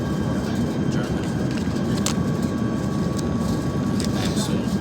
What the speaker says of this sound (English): Preparing for landing, so we're almost in Frankfurt, Germany.